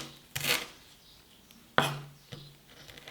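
Three separate knife chops through fresh basil and parsley on a cutting board, each a sharp near thud with a brief scraping tail, spaced irregularly about a second apart.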